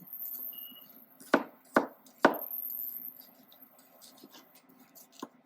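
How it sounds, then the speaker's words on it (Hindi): Cranberries popping as they simmer in a pan of homemade cranberry sauce give three sharp, distinct pops close together, then a couple of softer ones, over a quiet low bubbling background. "देखिए अभी तेज ने अपना रंग दिखाना शुरू कर दिया, बेरीज ने फटफट की आवाज़ें आने लगी।"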